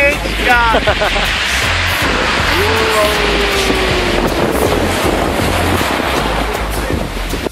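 Wind buffets the microphone over rushing sea water and a boat's low droning engine, with a brief voice rising near the start.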